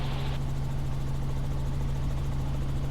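Steady, loud rotor and engine drone of an R-44 helicopter in flight, a continuous low throb with a strong tonal hum filling the whole stretch without pause.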